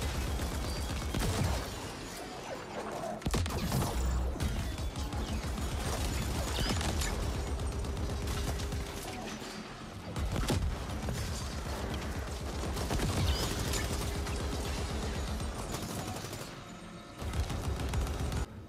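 An auto turret fires at enemies in The Ascent, a video game, producing dense, loud bursts of rapid gunfire with mechanical clatter that run nearly the whole time, with brief lulls between volleys.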